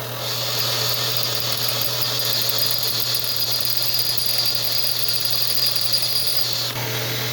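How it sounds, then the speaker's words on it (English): A power drill whines steadily with a small metal pin held against it, a high sustained tone that runs unbroken before cutting off near the end. "I've taken a small piece of it and applied it to the drill."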